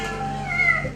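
A stray kitten abandoned on the street meows in one drawn-out, fairly loud call with clear tonal harmonics. No one speaks.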